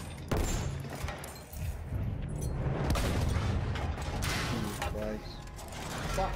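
A tank battle plays out in a first-person shooter game, with dense low rumbling, booms and mechanical clatter filling the mix continuously at high level, a voice briefly heard over it.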